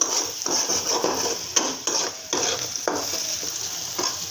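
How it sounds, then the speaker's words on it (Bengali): Onion fries in a pan with a steady sizzle, broken by repeated scraping stirs of a utensil against the metal roughly every half second. "আমার পেঁয়াজটা ভাজা ভাজা করে নিচ্ছি"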